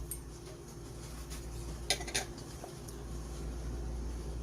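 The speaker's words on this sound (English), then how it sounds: "I'm going to mix my cornmeal." Cornmeal is stirred in a mixing bowl, giving soft scraping and a few sharp clinks of a utensil against the bowl over a low background hum, with no talk.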